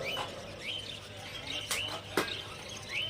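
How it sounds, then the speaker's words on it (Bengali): A busy flock of budgerigars chirps at a bird market, quick bright tweets repeating over a steady background hum, with a couple of sharp clicks. "এখানে বদ্রি পাখি দেখতে পাচ্ছেন ঝাঁকে ঝাঁকে বদ্রি পাখি"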